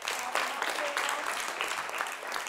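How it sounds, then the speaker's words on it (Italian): A group claps together at a school presentation about water pollution, a dense, steady patter of hands lasting a couple of seconds with no voices over it. "Facciamo un applauso."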